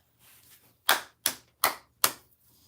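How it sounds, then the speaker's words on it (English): Four sharp hand claps close by, evenly spaced about a third of a second apart, preceded by a brief soft murmur in an otherwise quiet room. "Can you clap?"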